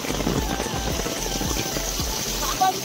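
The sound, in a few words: heavy rain at Arwah Cave, Sohra, Meghalaya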